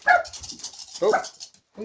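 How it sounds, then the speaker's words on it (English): A dog barks in short, sharp bursts during a tabletop wargame session, with a person speaking briefly over it. "that's my dog."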